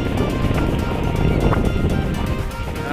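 Rough sea surf rolls in at Guihulngan Beach in Negros Oriental, a loud, continuous wash of waves and wind noise with no clear talk.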